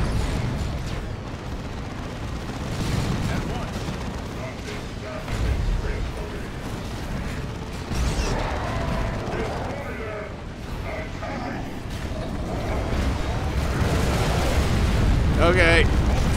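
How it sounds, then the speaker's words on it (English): Gunfire crackles in the real-time strategy game Dawn of War II: Retribution: dense, continuous battle noise with rattling shots, bursts and mechanical clatter, while a player talks over it. "Oh, the gunfire is just"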